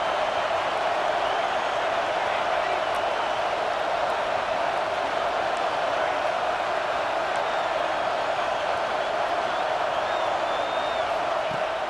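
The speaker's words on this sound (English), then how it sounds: "And here comes the noise. This crowd is trying to inspire this defense to make a big red zone stop." A stadium crowd at an American football video game roars steadily and loudly throughout, a dense, unbroken wash of crowd noise with no clear talk.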